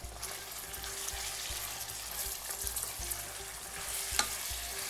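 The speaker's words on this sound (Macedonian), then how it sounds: "Нека си се пржи." Chicken pieces fry in a hot pan with a continuous dense sizzle and crackle, steady and close, with a few soft stirring knocks and one brief sharper tick.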